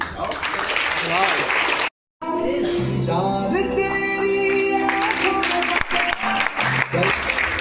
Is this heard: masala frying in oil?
no